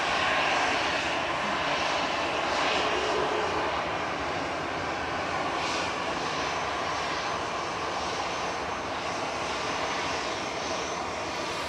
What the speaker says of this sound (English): Sun Express from Dalaman, touchdown in the background